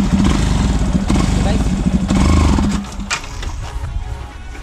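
A Yamaha FZS V3 motorcycle engine is started in third gear, its loud, rumbling running note holding steady and then dropping lower as it falters, with a voice talking over it.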